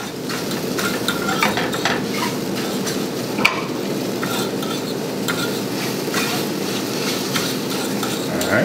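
Scrambled eggs sizzling and frying in a pan, with steady stirring and occasional scraping clicks of a utensil against the pan, continuous and fairly close throughout.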